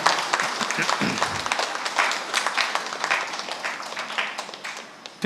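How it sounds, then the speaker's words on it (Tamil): A church festival crowd at St. Sebastian's chapel in Kuvalakudi claps steadily for several seconds, a dense patter of many hands at a fairly even level, with a sharp burst right at the close. "ஜோரா கைத்தட்டி தம்பியை நாம் பாராட்டுவோம்."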